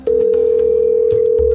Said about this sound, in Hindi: तभी राज का फोन बजता है